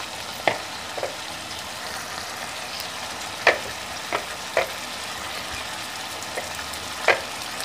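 Chicken pieces dropped into a pan of softening carrots for banana croquette filling, giving a steady low sizzle broken by several sharp clacks of a utensil against the pan, near and without talk.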